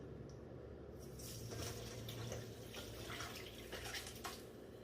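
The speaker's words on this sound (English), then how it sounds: "We have this really fine mesh strainer, and we're just going to pour this right in." Bone broth pours through a fine mesh strainer in a home kitchen, a steady close liquid splash and trickle running without pause, with no talk.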